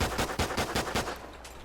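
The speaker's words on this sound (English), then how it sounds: "Look at that mag dump, man" Rapid automatic gunfire from a Call of Duty weapon as a full magazine is emptied: about half a dozen loud, evenly spaced shots, then the burst stops and the sound trails off.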